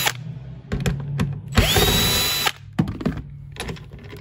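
A power driver backs T25 screws out of the forward and reverse switch on a Club Car Precedent golf cart. Several short whirring bursts and one longer high whine ring out close and loud, separated by clicks and handling noises.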